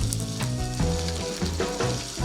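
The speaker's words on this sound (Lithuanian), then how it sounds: "ir apkepame vištieną" Chicken pieces frying in hot olive oil in a single pan while paella is cooked, a steady close sizzle with crackling pops and a few stirring bumps throughout.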